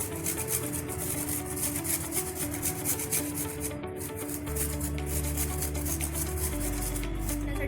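Fresh coconut being grated over a dish of spicy Maharashtrian patvadi, a steady dry rubbing and scraping that runs continuously up close with no talk.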